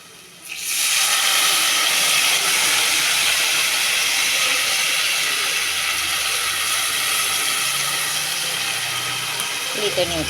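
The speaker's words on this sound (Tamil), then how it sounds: "இந்த ஸ்டேஜில் அடுப்பை குறைச்சி வச்சுட்டு புளி தண்ணி விட்டுரும்." Tamarind water hits garlic frying in a pan for vatha kuzhambu with shallots, bursting into a loud, continuous close sizzle that holds steady, with a faint voice underneath.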